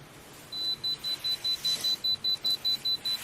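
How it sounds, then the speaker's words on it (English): Rapid, evenly spaced electronic beeps from a fingerprinting machine at a police booking, a dozen or so short tones in a steady rhythm, alone and close. "the beeping noise was annoying"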